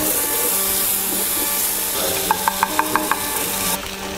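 Food frying in a pan in a college kitchen, a steady hiss of sizzling throughout with a brief series of sharp clicks partway through, close and fairly loud with no talk.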